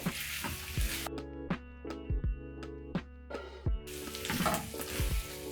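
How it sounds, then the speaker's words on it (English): Diced liver sizzles in hot oil in a pan, making a steady frying hiss close to the microphone. Metal utensil knocks and scrapes break through from time to time as the pieces are stirred. "Then I'll let it cook a little bit with the oil."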